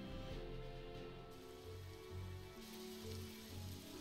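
Steady rain patters continuously in the video game Evoland 2, with low rhythmic music-like tones pulsing underneath; fairly quiet and even throughout.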